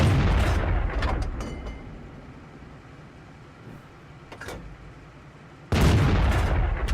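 A premium tank destroyer's gun fires in World of Tanks, with a heavy, loud cannon boom at the start that fades into a rumbling tail, then a second sharp blast near the end.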